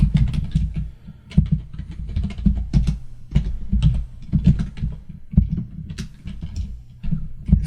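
Computer keyboard being typed on while writing C# code for a Unity game, a steady stream of close, clattering keystrokes in uneven bursts with brief pauses and no talking.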